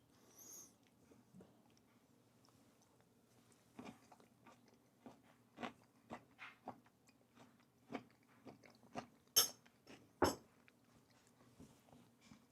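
Someone chews a crunchy black bean salad with onion, green onion and corn, close to the mouth: quiet, irregular crunches and bites come in a steady series over a low room hum.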